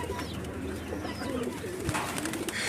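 A pair of Gola pigeons cooing softly nearby, low repeated coos over faint background ambience.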